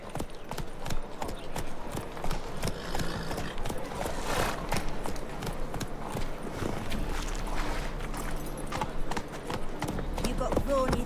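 A horse gallops in The Witcher 3 video game, its hoofbeats running steadily under game music, ambient noise and talk throughout.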